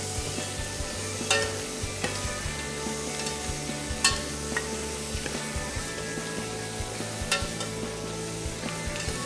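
Shellfish shells roast in a hot pan with a constant close sizzle, broken by several sharp crackles and scraping stirs spread across the stretch.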